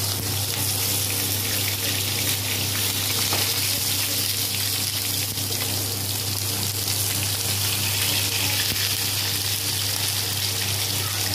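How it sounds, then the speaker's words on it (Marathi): Bangda (mackerel) fish frying in a pan with little oil, a steady dense sizzle and crackle running loud and continuous throughout, with a low hum beneath and no talking. "हे पहा, आता एका बाजूने ना फ्राय होत आलेले आहेत।"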